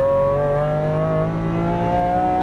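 A Lamborghini Aventador at full throttle makes a loud, close engine roar whose pitch climbs steadily as it accelerates, with a sustained strong tone throughout.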